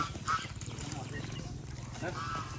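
Ducks on a rural farm in Thailand give a few short nasal quacks amid a busy, noisy scene, mostly mixed under people talking nearby.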